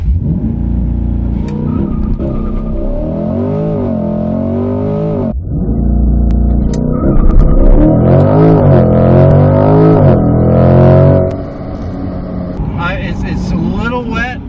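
A 2020 C8 Corvette launches hard from a standstill on a wet road for a 0-60 mph run, the engine revving loud and close with rising pitch through quick gear changes before backing off near the end.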